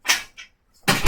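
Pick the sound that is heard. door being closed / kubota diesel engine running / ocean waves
door being closed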